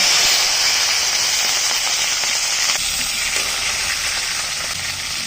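Panch phoron spices sizzling in hot oil during village cooking, a loud continuous bright hiss and crackle filling the whole stretch, slowly easing, with no talk.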